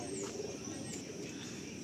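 Soft, low cooing of a male Giribaj pigeon in a loft, faint and somewhat distant, against a steady background hum.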